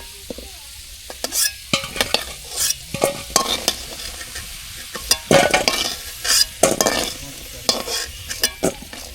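Potatoes fry in hot oil in a pan while being stirred, giving a steady sizzle broken by repeated loud scraping and clattering strokes of the spatula, close up with no voices.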